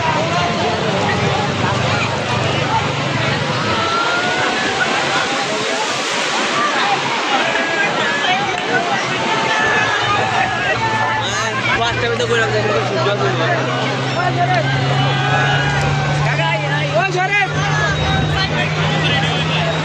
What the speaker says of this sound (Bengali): এই হচ্ছে ঢেউগুলো আস্তে আস্তে পড়ছে।